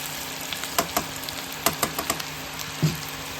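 Chicken frying in a pan for chicken Maggi: a steady, close sizzle with scattered spoon clinks and stirring taps, and one duller knock near the end.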